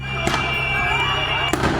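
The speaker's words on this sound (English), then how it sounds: "a flash grenade explodes at his feet" A flash grenade goes off at a man's feet during a neighborhood crowd incident in Little Village, Chicago: sharp loud bangs, one early and another near the end, over a constant background rumble and crowd noise.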